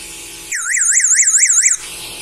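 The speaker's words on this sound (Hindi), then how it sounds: "तो दूसरा आप देख सकते हैं इस तरह अलार्म चलेगा।" A loud motorcycle anti-theft alarm warbles rapidly up and down for about a second, several quick electronic cycles, then cuts off abruptly.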